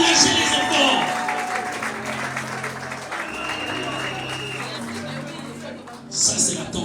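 An audience at an evening party applauds to encourage children, producing sustained clapping and crowd noise that gradually fades, with voices talking over it.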